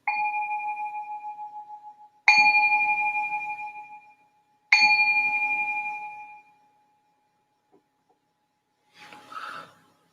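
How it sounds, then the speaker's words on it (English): A meditation bell is struck three times at the start of a Buddhist meditation session, each clear metallic tone ringing out and fading slowly in a quiet room, followed by a faint soft rustle. "I'll just ring this bell to signal the start of the meditation"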